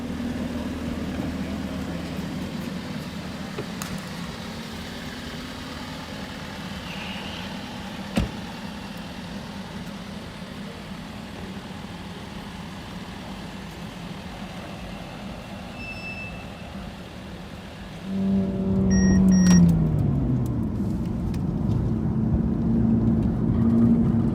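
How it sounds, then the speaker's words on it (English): A Mercedes-AMG car is driven around the Sepang race circuit, first as a steady engine drone, then a louder, closer rising engine roar and whine near the end. "This is how a professional handles an AMG around Sepang race circuit."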